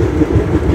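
A moving express train heard from beside an open coach door, a loud, steady rumble and rush of wheels and wind running without a break.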